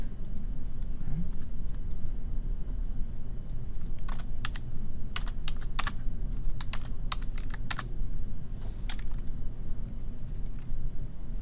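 Fingers type on a computer keyboard, with a continuous run of close, crisp key clicks and a few louder taps over a low background hum.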